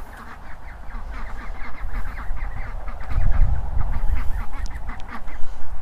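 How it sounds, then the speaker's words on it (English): Adult ducks and ducklings on a smallholding quack and chatter continuously, a busy overlapping flock close by, growing louder and more agitated partway through. "I've herded the ducklings back into their space, and the adult ducks have got theirs again"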